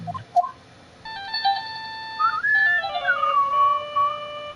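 A phone ringtone in the Phoenix Wright Trilogy video game, a clear electronic melody of sustained beeping tones that rises and falls for several seconds after a short blip, with no voices over it.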